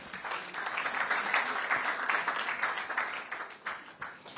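Audience applause at the launch of the national science and maths quiz championship in Ghana, a dense steady patter of many hands clapping throughout, moderately loud with a few louder bursts near the end.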